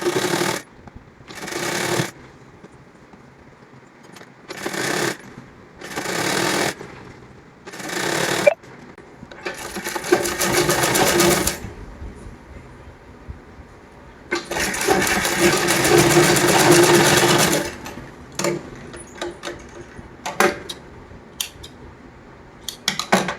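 A sewing machine stitching a plain salwar runs in bursts of whirring, first several short separate runs, then two longer stretches, with quiet gaps and faint handling noise between them.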